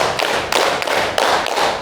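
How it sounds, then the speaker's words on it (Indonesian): Bare hands clap in steady, evenly spaced beats during a counting and concentration game, each strike loud and close with no voices over them. "tepuk 4, tepuk 5, tepuk 5, tepuk 5, tepuk 6"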